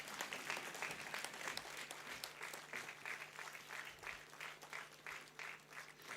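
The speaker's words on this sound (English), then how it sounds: "Come on, keep the applause going." A convocation audience gives sustained, dense applause for an award winner in a large hall, with many hands clapping steadily at moderate distance throughout.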